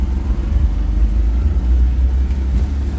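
A 1957 car driving over bumpy roads, a close, loud low engine rumble with steady drone and slight rough fluctuations, no talking.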